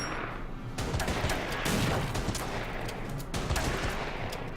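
Gunfire in the strategy game Order of Battle: Panzerkrieg, a dense crackling volley with sharp reports that runs steadily and loudly through the whole stretch, with no talking.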